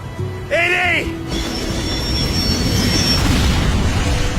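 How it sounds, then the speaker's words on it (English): A heavy runaway train roars loudly and continuously out of control, with a brief rising whistle-like tone early on and a voice shouting over the din. "It begins with an out-of-control train."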